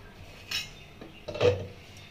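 A metal lid comes off a pan of cooking bogo fish with two quick, soft clinks close by, the second a little louder.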